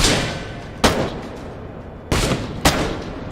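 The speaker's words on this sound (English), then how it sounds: "Actually, this pistol is doing some serious damage to the guy." Pistol gunfire in the video game Insomnia: The Ark, four sharp loud shots in two spaced pairs, each with a short ringing tail, and no talking over them.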